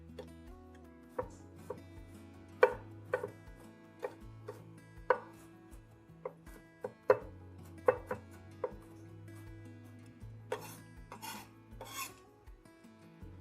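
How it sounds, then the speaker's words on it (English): A knife mincing garlic on a board, sharp irregular chops and scraping strokes ringing out over a steady musical backing, with a few louder rapid bursts of cutting toward the end. "I'm going to mince my garlic."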